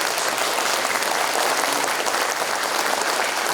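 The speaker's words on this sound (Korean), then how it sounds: "박수를 부탁드립니다." Loud, dense applause from the audience at a book launch event, a continuous wash of many clapping hands that holds steady for the whole stretch.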